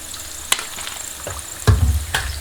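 Chicken pieces, for honey sesame chicken, sizzle in hot oil while being stirred and lifted out, with soft bubbling crackle and a few sharp clinks and splashes close by.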